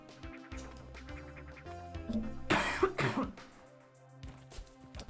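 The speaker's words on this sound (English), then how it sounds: "Nope, cough coming out." A person coughs a few times in quick succession, close to the microphone, with a louder harsh burst in the middle, while quiet game music plays underneath.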